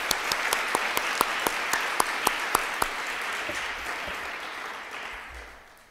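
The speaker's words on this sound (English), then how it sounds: "would you just join me in a round of applause for our two great speakers" A conference audience applauds for two speakers, a soft even patter with a few sharper nearby claps, fading out at the end.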